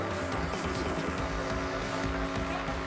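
Video game cars race with a constant loud engine roar and tire noise mixed into a dense game soundtrack, steady throughout with no pauses.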